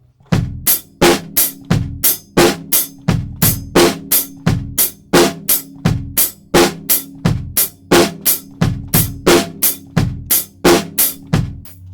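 A drum kit plays a steady groove, with kick and snare thuds and crisp hi-hat hits landing on the offbeats, loud and close.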